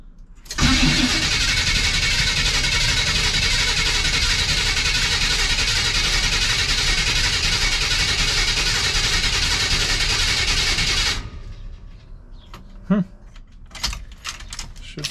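A CUCV military truck with fuel injection and a bad starter that needs shimming cranks loudly and steadily for about ten seconds, then the engine catches and settles into a quieter idle with scattered clanks.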